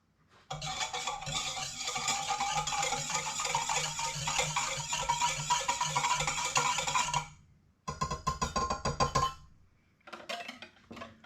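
Sugar and yeast mixture for bagel dough whisked briskly in a bowl, a steady close scraping and clinking of the whisk that runs for about seven seconds, pauses, then resumes in two shorter bursts.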